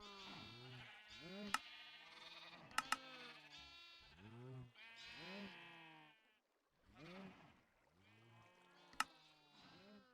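A group of Minecraft sheep, including babies, bleat over and over in wavering, overlapping cries, with a few sharp clicks mixed in.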